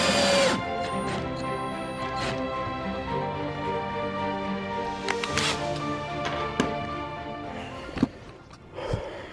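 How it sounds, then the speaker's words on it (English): Power drill boring and countersinking screw holes in the wooden frame of a homemade toddler bed, steady whirring runs through most of the stretch with a few sharp knocks and taps near the end, close by. "I will drill and then countersink and then drop in some screws in each one of these"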